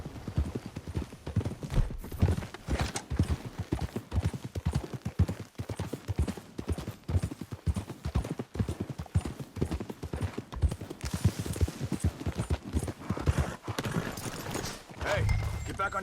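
Horse hooves clip-clop steadily in Red Dead Redemption 2, a fast rhythmic gait running the whole time under game dialogue and music, with a brief whinny-like burst near the end.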